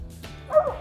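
A squirrel-hunting dog gives a single short, fairly close bark and yip at a treed squirrel outdoors, with a faint whine trailing after it and nothing else around it.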